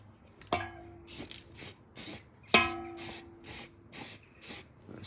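An aerosol spray can hisses out in a run of short, even bursts while painting a BMW E36 328i subframe, preceded by a couple of sharp metallic clicks and rattles, close up with no talking.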